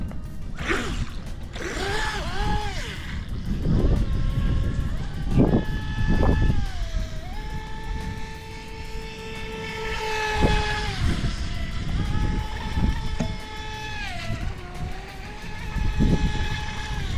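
A brushless RC boat runs on the water, its high electric motor whine rising and falling in pitch as it speeds up and turns, with continuous water noise underneath and no talk.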